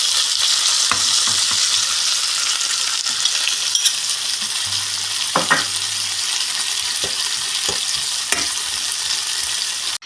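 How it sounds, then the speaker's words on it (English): Onions fry in a pan alongside beef patties, giving a steady loud sizzle throughout with occasional scraping stirs and small clicks, no voices. "Put your onions on the pan."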